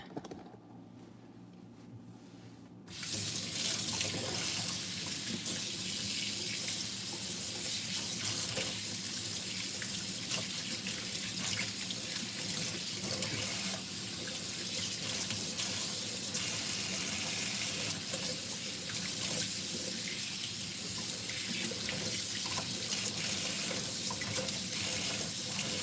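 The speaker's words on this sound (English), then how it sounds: "I'm gonna wash my hands" Tap water gushes loudly and steadily into a sink for hand washing in a home kitchen, starting abruptly after a few quiet seconds and running on without a break, with faint bird calls in the background.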